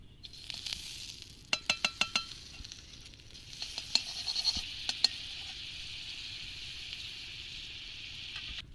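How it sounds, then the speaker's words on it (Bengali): Butter melts in a wok over a village cooking fire, a faint sizzle starting after a quick run of sharp metallic taps, then settling into a soft, steady hiss. "কড়াইয়ের মধ্যে এবার আমি বাটার দিয়ে দিচ্ছি"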